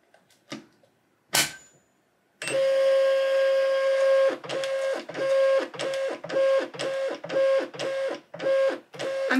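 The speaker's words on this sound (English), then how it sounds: "I'm assuming it has to do some sort of calibration to tell, like, what size of label you put in" A Rollo wireless label printer calibrates and feeds labels: after a couple of brief handling knocks, a loud steady mechanical whir starts and then breaks into a regular series of short pulsed feed bursts, close and alone.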